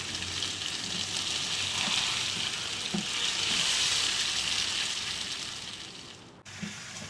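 Chicken sizzles and fries steadily in a pan with spices and yogurt for biryani, a loud, continuous crackling hiss with occasional soft stirring knocks throughout.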